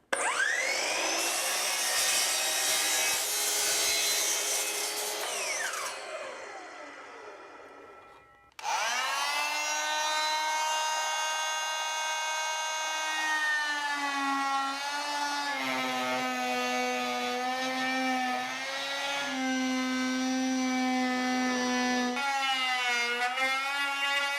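Power saw cutting wood to make a dust port for a table saw, a loud whining motor with a high tonal scream during two long cuts, separated by a brief pause, pitch shifting as the blade loads.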